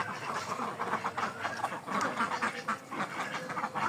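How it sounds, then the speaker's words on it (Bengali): A flock of Khaki Campbell ducks on a duck farm quacking continuously, many overlapping rapid calls close by with no talking. "এই যে আমাদের খাঁটি ক্যাম্বেল হাঁসগুলো"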